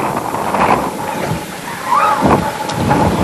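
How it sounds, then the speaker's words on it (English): Blustery wind buffets the microphones in a hushed athletics stadium before the men's 100 m trials start, a steady rumbling wash with swelling gusts, with a faint voice briefly audible underneath. "Gusts of wind echoing off the microphones."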